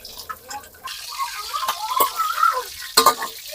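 Fish frying in hot oil makes an uneven close sizzle with bursts of spattering crackle and a few sharp pops, rising and falling throughout.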